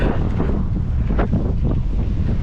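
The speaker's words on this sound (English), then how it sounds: "that wind is savage" Strong wind roars and buffets the microphone while riding across a viaduct, a loud, continuous rushing gust with no talking.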